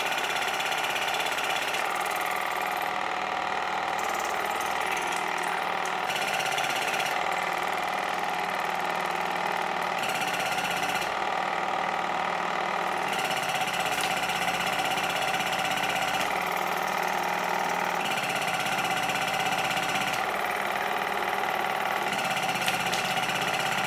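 A Waterpik WP-100 E Ultra dental water flosser runs steadily with a continuous mid-pitched motor whir and faint pulsing. Its high hiss briefly shifts as it is moved, and no one speaks.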